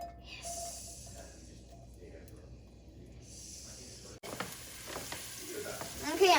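Onion frying in melted coconut oil while being stirred, a soft sizzle with scraping and a sharp knock midway before the stirring gets louder and busier.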